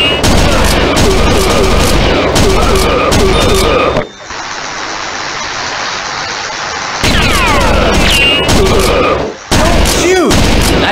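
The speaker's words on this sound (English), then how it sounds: "I need a magnum gun." Magnum gunshots in the arcade shooter Virtua Cop 2 fire in loud, dense volleys alongside booming game effects, then pause for a few seconds of steady background noise before the heavy firing resumes.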